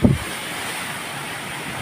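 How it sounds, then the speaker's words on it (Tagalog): Typhoon wind roars over big waves on Boracay island, a steady, loud rush of wind and surf after a brief thump at the start, with no voices. "grabe, umuugong talaga hangin. Makikita nyo lang yung alon, talaga naman napakalaki ng alon."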